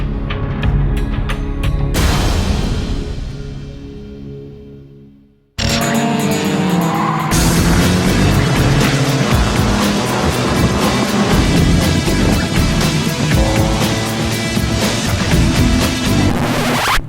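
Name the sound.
race cars racing at Buttonwillow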